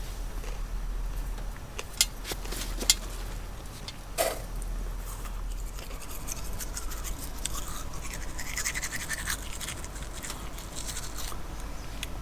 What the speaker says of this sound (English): Gonna finish brushing my teeth, and then it's bedtime.